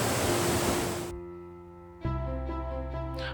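Broad roar of rushing water pouring through an open gate of the Kalavagunta Dam near Chittoor in the rainy season, loud and continuous at first before it cuts away to a steady tonal hum.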